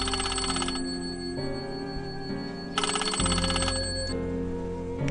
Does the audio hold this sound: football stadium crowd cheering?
no